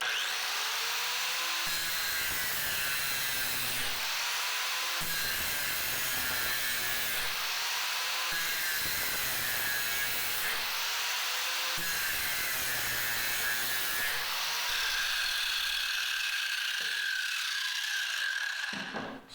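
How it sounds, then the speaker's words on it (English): An angle grinder fitted with a CC Grind Robust disc grinds an Oregon Gator mower blade from a Skag mower, giving a steady high-pitched metal-on-metal screech in repeated passes, loud and close, with no talking. "this is going to be grinding on a Oregon gator blade that came off of a Skag mower"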